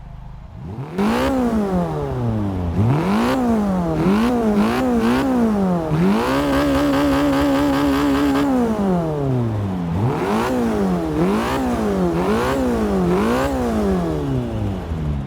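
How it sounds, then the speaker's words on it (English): Fiat 500 Abarth engine in the Forza 6 video game revving repeatedly, with sharp rising and falling blips and one longer held rev in the middle, loud and close, no talking. "So let's rev it up and hear how it sounds."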